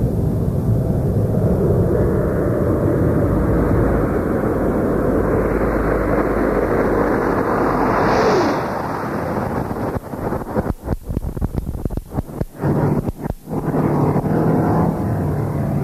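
Space Shuttle Discovery on landing approach, heard as a steady loud roar of rushing air and wind buffeting that later breaks into choppy gusty bursts, with no talking.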